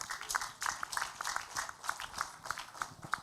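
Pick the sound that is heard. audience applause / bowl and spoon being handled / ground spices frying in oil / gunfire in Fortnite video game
audience applause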